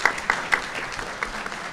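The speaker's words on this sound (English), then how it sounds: "Round of applause for Kelsey." A few scattered handclaps at a town hall panel on wildfire readiness, sparse and irregular over under two seconds with a faint room background.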